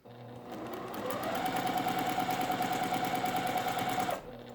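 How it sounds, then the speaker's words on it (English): A sewing machine runs steadily for about three seconds as it stitches small pieced fabric for a quilt, its motor hum rising quickly and then cutting off, with no voices. "I'm going to stitch, but you'll see that I'm catching that initial edge with that first stitch because I've got it butted up right up to the needle"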